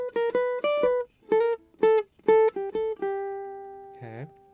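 Guitar solo phrase from a reggae song, played alone on a clean tone: short picked and slid notes in quick bursts, ending on a long sustained note and a brief strum.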